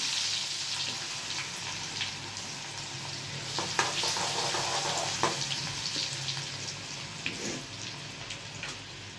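Cumin, asafoetida and onion sizzle and fry in a pan for bhaji pav, with a steady close crackle and a few louder spatters, no talking.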